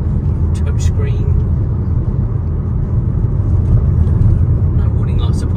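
A 2019 Citroen Berlingo 1.6 HDI van drives on the road with a loud, steady low engine and road rumble throughout, while a person talks over it.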